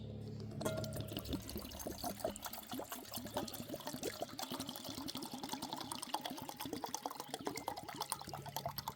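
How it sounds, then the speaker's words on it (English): Water pours steadily into an antique cooking pot outdoors for bush coffee, a continuous faint splashing and gurgling that runs throughout without any talking. "we're going to pour our water in."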